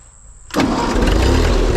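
A Ford 8N tractor engine turns over and catches abruptly after a quiet moment, then settles into a loud, steady running rumble up close.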